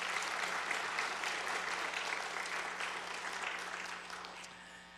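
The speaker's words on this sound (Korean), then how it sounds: "환영의 박수 부탁드립니다" A church congregation gives welcoming applause during a Sunday worship service, a broad, even wash of clapping from a large room that slowly fades as the clip closes.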